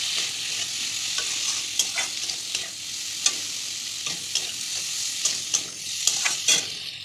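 Ground turmeric and chili powder sizzle in hot oil in a pan while a spoon stirs them, giving a soft, steady fry broken by irregular scraping clicks. Close and fairly quiet, with no talk.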